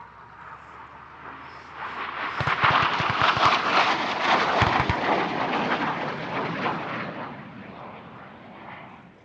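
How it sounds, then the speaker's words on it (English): An F-86 Sabre jet flies a display at the Air Legend airshow in Paris-Villaroche. A loud, broad roar swells in after about two seconds and holds steady and powerful, with a few sharp low thumps inside it. "the F-86 Sabre."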